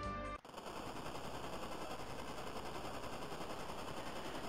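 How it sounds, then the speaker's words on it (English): Continuous rapid machine-gun fire from a Red Wings airship strafing run in Final Fantasy IV, a dense, steady rattle that starts abruptly after a short burst of music and carries on unbroken. "abruptly interrupted by a Red Wings strafing run"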